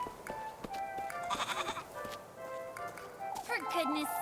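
A goat bleats in a quavering cry amid tonal game-like background sounds, with people talking over it.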